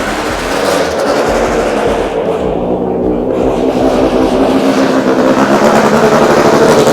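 A 1986 Toyota AE86 Levin with a loud, raw engine note, droning and revving near the microphone, harsh and sustained throughout without speech.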